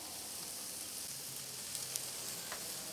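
Burgers sizzle on a grill grate in a steady, dense hiss with a few faint pops, close and even throughout, with no talking.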